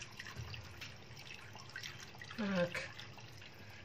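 Hot water pours into a tagine pot of meat with prunes and apricots, a soft gurgling trickle that swells briefly near the end, heard close under a quiet voice.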